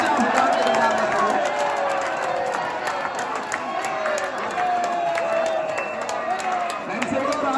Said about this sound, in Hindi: एक बार सब लोग प्रेम से ताली मार के हंसे हुकार के बजा के करो।